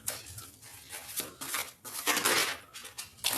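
A deck of tarot cards being cut and shuffled, with a series of close, crisp riffling and slapping bursts, some longer and some brief, with no talking.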